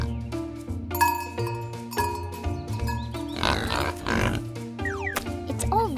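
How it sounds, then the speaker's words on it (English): Pigs on a farm give grunting oinks, heard several times over a children's animal cartoon with bright music, chimes and a background voice. "Pigs prefer to relax in the mud."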